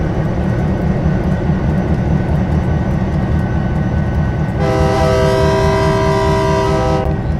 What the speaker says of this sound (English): Honk of the horn there.